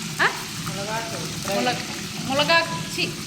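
Tempering spices sizzle in hot oil in a pan as the first step of a drumstick leaf fry, a steady close crackle with stirring scrapes and faint talk in the background.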